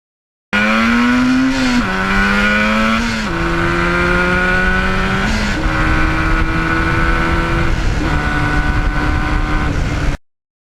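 A 1977 Yamaha RD400 motorcycle rides by, its engine droning loud and close, the pitch climbing and then dropping with each of several gear changes before cutting off.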